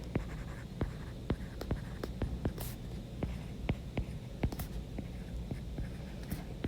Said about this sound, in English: I'm going to write that down in the top corner so I don't forget